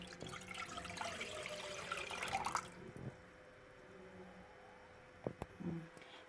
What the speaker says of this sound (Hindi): अब मैं इसमें ऑरेंज जूस डालूँगी।